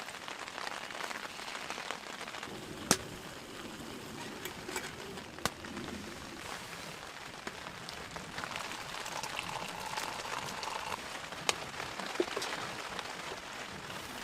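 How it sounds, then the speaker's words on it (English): Cold spring rain patters steadily on a hot tent during solo camping, a soft, even hiss with occasional sharper drops striking the fabric close by. "But it's raining and it's 2 degrees out right now."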